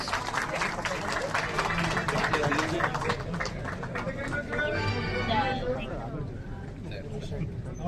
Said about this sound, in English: Kindly keep the applause going, ladies and gentlemen,